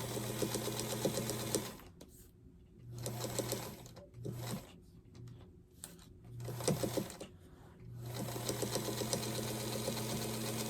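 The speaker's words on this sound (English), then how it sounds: "And sew it up." A sewing machine stitches pieces of a Christmas quilt star in steady whirring runs, broken by short pauses and stop-start bursts, close and clear with no talking.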